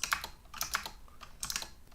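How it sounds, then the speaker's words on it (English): Fast typing on a computer keyboard with a press of the enter key, three quick bursts of close, crisp key clicks with no talking. "I'm like typing it and pressing enter to submit it."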